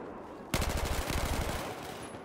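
Automatic gunfire in the video game Battlefield 4 erupts after a half-second lull, a rapid, loud burst of repeated shots lasting about a second before trailing into ambient game noise.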